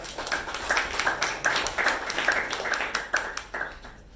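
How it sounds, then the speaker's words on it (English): A Toastmasters meeting audience gives a round of applause, a lively mix of many hands with a few crisp, evenly spaced claps standing out. "Can we have a huge round of applause?"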